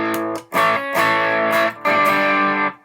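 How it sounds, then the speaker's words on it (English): An electric guitar played through a Soul Food overdrive pedal strums three gritty, sustained chords in quick succession. Each chord rings loud and close with brief gaps between them, and there is no talking. "Soul food sounds like this."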